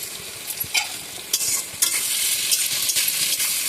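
Paste of ground ginger and cumin with chilli frying and being stirred in a pan for egg curry, crackling sizzle with sharp scrapes of the spoon every half second or so, close and fairly loud.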